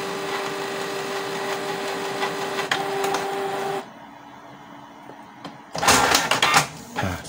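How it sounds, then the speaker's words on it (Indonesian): A Canon G2020 inkjet printer runs after an error fix, with a steady mechanical whir and hum that drops off, then a short burst of louder clattering print-head movement. "printer sudah normal kembali"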